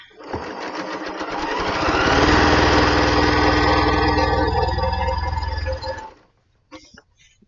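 A Janome-made Elna 720 Pro sewing machine starts up and runs steadily, a loud close rapid mechanical whir that builds over two seconds, holds, then stops abruptly near the end.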